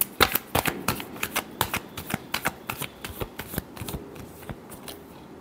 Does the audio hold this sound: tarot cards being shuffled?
yes